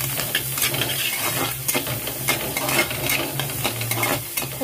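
Green chilies and onion sauté in butter in a pan, giving a steady close sizzle broken by repeated scraping and stirring strokes of a utensil, with no voices.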